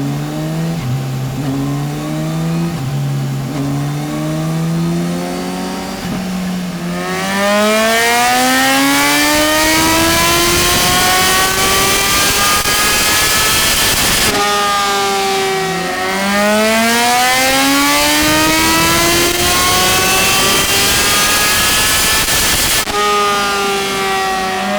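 Kawasaki Ninja H2 SX supercharged sport-touring motorcycle revving hard on a dyno, its engine note climbing steeply through the gears in repeated loud sweeping runs, with brief drops between pulls and no talk.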